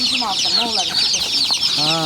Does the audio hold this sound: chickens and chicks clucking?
yes